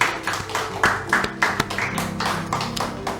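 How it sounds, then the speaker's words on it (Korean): A church congregation claps as a blessing after a Sunday service, with loose, uneven hand claps and sharp taps spread across the room at moderate loudness. "박수로 축복하십시오."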